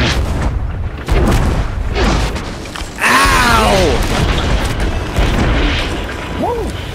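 Cannon fire in the pirate ship game Sea of Thieves, a few deep booms landing loud and close amid game noise, with players shouting and talking excitedly over them.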